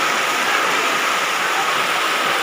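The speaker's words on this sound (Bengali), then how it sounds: "ভিতর দিয়ে জল যায়।" Flood water flows through a channel in a steady, loud rushing wash, like a stream or waterfall, with no break across the whole stretch.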